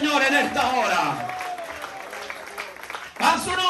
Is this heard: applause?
yes